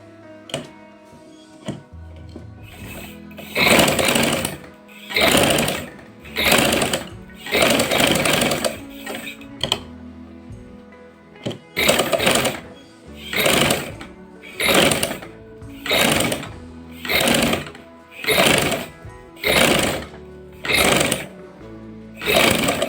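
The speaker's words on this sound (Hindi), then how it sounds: "अब उसके बाद मैं इसको मशीन की मदद से मोड़ लूँगी" A sewing machine stitches and folds fabric for a neck design, running in repeated bursts of steady whirring stitching separated by short pauses, close and fairly loud, with no talking.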